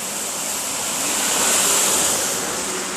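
Continuous rushing wash of the Vatrak river flowing near Malpur, Aravalli, during the rainy season, steady and moderately loud, swelling slightly in the middle, with no voices.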